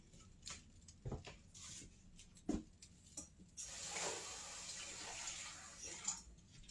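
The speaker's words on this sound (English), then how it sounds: "Now I'm going to add about 3 ounces of water in here." About three ounces of water poured into a pot for cooking green beans and potatoes with country style ribs: a few soft clinks and taps, then a steady splashing pour, quiet and close.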